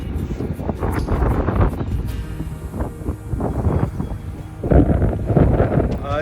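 Strong wind on the Atlantic coast at Chéticamp along the Cabot Trail in Nova Scotia roars and gusts across the microphone without a break, loud and close.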